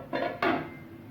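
Two quick metallic clanks as a lid is set onto a cooking pot of water coming to a boil, close by, with a short ringing fade.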